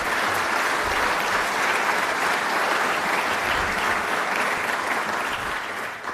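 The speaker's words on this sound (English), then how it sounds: "Please give her a round of applause for that." Audience at a 2023 State of the County address breaks into loud, sustained applause, a dense wash of clapping that runs evenly throughout and eases slightly at the very end.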